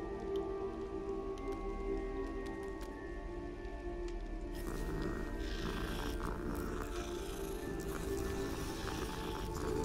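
A cat in the video game Hogwarts Legacy purrs with a steady, low rumble throughout, soft and close, with a faint patter of rain-like ticks in the background.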